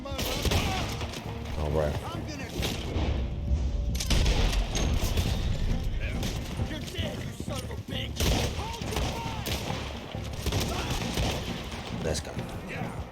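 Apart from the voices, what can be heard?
shotgun firing in a video game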